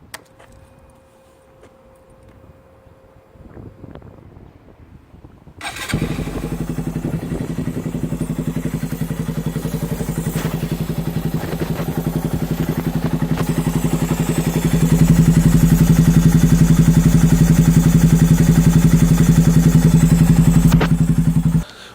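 A Honda Grom motorcycle fitted with an aRacer RC mini 2 ECU and AF1 starts after a few quiet seconds, then runs with a loud, steady close-up engine drone that rises to a higher, harder idle partway through.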